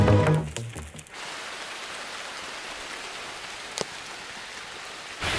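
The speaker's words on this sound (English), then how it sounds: "It's raining so hard," Heavy rain pours down in a steady, dense hiss outside a cave in the wild, preceded briefly by louder patter and a few sharp drips close by.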